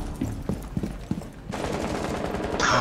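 Gunfire in Rainbow Six Siege: a few sharp separate shots early on, then a sustained loud automatic burst that runs to the end with no talk over it.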